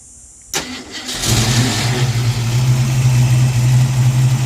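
A Ford Mustang V8 engine, freshly fitted with a QFT Slayer 750 carburetor, cranks and catches, then settles into a steady, rumbling idle close by, with no voices.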